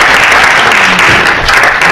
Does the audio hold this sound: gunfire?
no